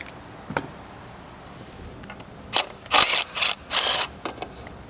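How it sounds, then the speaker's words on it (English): A ratchet socket tool clicks in short bursts on a Lexus belt tensioner, with a lone early click, then several rapid ratcheting runs close by over quiet shop background. "At least here I have space to tap the socket in."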